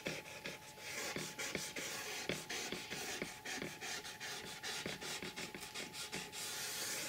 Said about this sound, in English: I just go along with a Q-tip to wipe off any excess glue